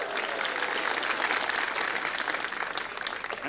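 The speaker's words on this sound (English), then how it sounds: "let's have a round of applause for the captain and John." Steady applause from a theatre audience at a cruise ship farewell show, dense clapping at an even level throughout with no voices rising above it.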